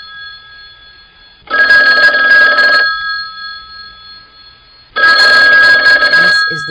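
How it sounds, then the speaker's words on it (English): A telephone rings twice before a voicemail greeting: two loud electronic trilling bursts, each roughly one to one and a half seconds long, with a quiet pause between them, close and clear. "This is the voicemail of Imogene Slokowski at CRZY. Please leave a message after the tone"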